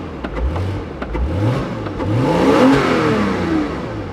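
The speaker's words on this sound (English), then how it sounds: "the Porsche Boxster, that sounds very neat. You can actually hear the intake open." A Porsche Boxster engine revs up repeatedly, rising in pitch with each push, then swells into a stronger throaty intake roar as the intake opens, before settling.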